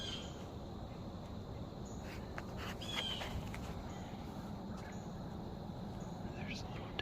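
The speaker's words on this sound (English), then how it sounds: "the squirrels are chirping" Squirrels chirp in autumn woods during deer season, a few faint, brief chirps scattered over a steady rushing background with no talking.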